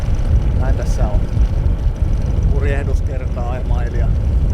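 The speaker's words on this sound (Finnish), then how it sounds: "aloitellaanpa tästä nyt sitten moottorilla Äänekoskelle" A sailboat's motor hums steadily beneath someone speaking, on a lake passage near Äänekoski, Finland; the low engine drone runs continuously throughout.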